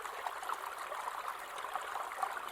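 Water bubbles and trickles steadily over an old beaver dam at a pond, a soft, continuous gurgling stream with no voices.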